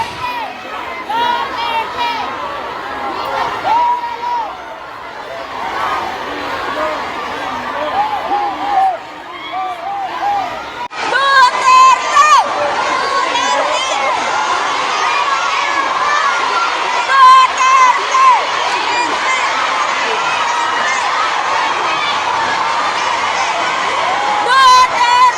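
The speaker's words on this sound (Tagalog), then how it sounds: "may sumigaw pa po Marcos resign mga kababayan" A crowd of OFWs gathered at Lucky Plaza Mall in Singapore shouts protest slogans, raised voices and cheers swelling louder partway through over steady background chatter.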